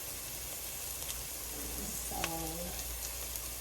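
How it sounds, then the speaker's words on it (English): Beaten eggs poured into a hot pot set up a faint, steady sizzling hiss under a low background hum, with a brief clink of utensil and soft tonal sounds partway through. "So I'm going to go ahead and pour the eggs."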